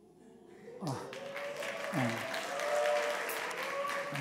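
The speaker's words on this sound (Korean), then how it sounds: "30분 설교하고 박수 받는 건 정말 우리 교회밖에 없을 겁니다" A church congregation breaks into applause after a Sunday sermon, rising from quiet into a full, sustained patter of many hands that holds steady while voices carry over it.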